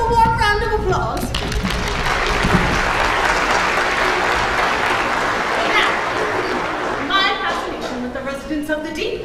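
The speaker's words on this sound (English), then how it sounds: "Let's give them a warm round of applause." A theatre audience at a stage production of The Little Mermaid applauds loudly and steadily for several seconds, the clapping dense and sustained before tapering slightly near the end.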